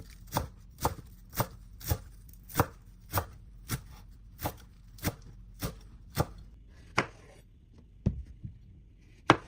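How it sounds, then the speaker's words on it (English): A knife chops fresh dill on a cutting board in a steady run of about a dozen crisp, evenly spaced thuds up close, then a few slower, scattered strokes. "Chop some fresh dill."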